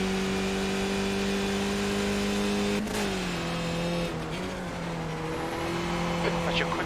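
Skip Barber race car engine in iRacing, a steady droning engine note that dips briefly as the car slides, then recovers, with faint tyre noise and no one talking.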